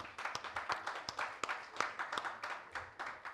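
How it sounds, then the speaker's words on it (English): Audience applause for a global chair at a Kenya diaspora homecoming convention, a steady, fairly faint wash of many hands clapping with sharper individual claps standing out, continuous through the moment. "Please, let's give him a round of applause."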